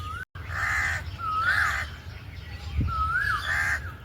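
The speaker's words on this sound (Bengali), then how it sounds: "কাক কোকিলের সাথে কম্পিটিশন করছে" Crows caw repeatedly and loudly nearby at Rabindra Sarovar, a lakeside park in Kolkata. Harsh calls mix with rising whistled bird calls over steady outdoor background noise.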